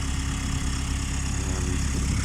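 A VW T25 van engine idles steadily at close range, a loud, low, even chugging rumble with a constant throb and no change in pace for the whole stretch.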